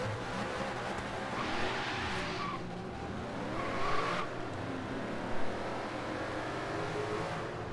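Cars accelerating hard in Forza Horizon 3 at a midnight car meet with a Ford GT, LFA, Z4 and F-Type, a sustained engine roar rising in bursts with brief tire squeal, loud and continuous.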